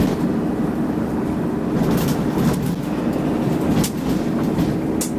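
Cabin of a Land Rover Defender rattling over potholes on a UK public road: a constant low rumble with scattered clunks and jolts, no talking.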